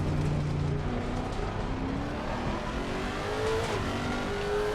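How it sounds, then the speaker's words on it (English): A race car engine in a racing video game on the Nordschleife track revs and climbs through the gears, its whine rising steadily and dropping at each shift, loud and continuous with faint tire noise. "Give them a listen to the car."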